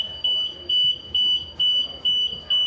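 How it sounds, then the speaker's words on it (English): An alarm goes off while passengers board a cruise ship on the gangway, a loud, shrill electronic beep repeating in regular pulses about twice a second. "alarms started blaring and we were stopped in place"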